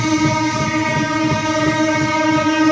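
Kumbh Mela special train rolling into Prayagraj, a loud steady rumble of carriages with sustained horn-like tones droning throughout, no voices.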